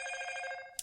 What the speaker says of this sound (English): So that's Motorola's ringtone, which is again pretty common and a very good one.